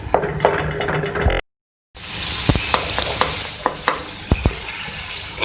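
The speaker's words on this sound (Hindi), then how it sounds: "इसको हम इस तरीके से मैश कर लेंगे" Peeled ingredients for a beef Shinwari karahi are mashed in a hot pan: a steady sizzle runs throughout with sharp utensil knocks and scrapes, broken by a brief silent gap.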